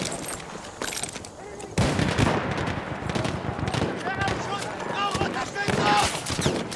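Automatic rifle fire from a B.A.R. in a Battlefield 1 match, rapid bursts crackling over loud, busy battlefield din, with a voice talking over parts of it.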